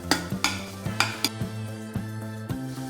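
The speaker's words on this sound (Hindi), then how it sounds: "अब इसको मैं चला लेती हूँ।" A spoon stirs masala with onion and tomato in a pan for lauki bharta, making a steady rhythm of metallic scrapes and clinks against the pan, close and clear, with a faint sizzle beneath.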